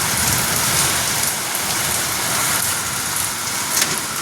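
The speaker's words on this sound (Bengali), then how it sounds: "দেখছি যেরকম বৃষ্টি পড়ছে" Heavy rain pours steadily and loudly during a storm, a dense unbroken hiss of drops on surfaces with no voices.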